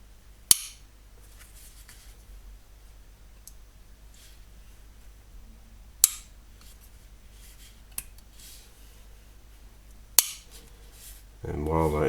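A Spyderco Manix 2 Lightweight Salt folding knife's lock snaps with a few crisp, isolated metallic clicks spaced several seconds apart, close up against a quiet background.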